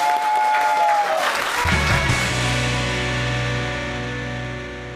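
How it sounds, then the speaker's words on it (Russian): Team members and studio audience applaud a contestant on the Russian TV quiz show Erudit-pyatyorka. A loud, steady wash of clapping is joined partway through by sustained musical tones, with the applause fading slowly toward the end. "Команда и зрители аплодируют Андрею."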